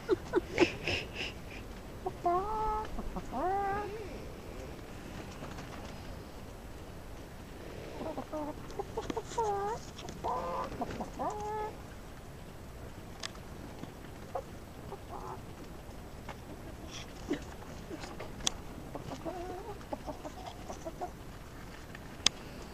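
Chickens clucking close by, scattered soft clucks and short bursts of cackling with a couple of louder calls, followed by quieter pecking and faint sounds against a low background.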